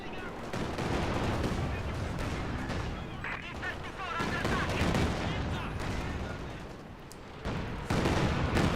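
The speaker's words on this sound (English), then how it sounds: "Good Katyusha barrage. That was a huge one." A large Katyusha rocket artillery barrage in the strategy video game Company of Heroes 2 produces dense, continuous volleys of crackling impacts and rumbling blasts with thick battle noise, while faint voices can be heard underneath.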